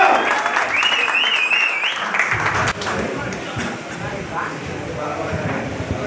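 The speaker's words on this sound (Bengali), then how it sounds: "ফয়সাল ভাই একটা জোরে করো তালিও" An audience at a pigeon club award ceremony breaks into loud, sustained applause, dense clapping filling the room with voices mixed in.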